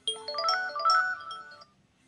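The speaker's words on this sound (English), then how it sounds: "Now the phone is ringing." Mobile phone ringtone playing for about a second and a half, a bright melodic tone sequence close and clear, with the unwrapped handset ringing alone before cutting off into quiet.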